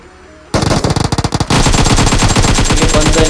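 Gunfire in the video game PUBG Mobile opens after a quiet moment with a loud burst of rapid automatic shots, then a sustained dense stream of firing, close and harsh.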